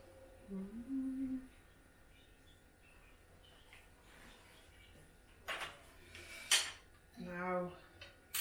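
Squash risotto being spooned onto a plate: a few sharp clinks and scrapes of a utensil against the plate in the second half, with a short voice near the start and quiet room tone between.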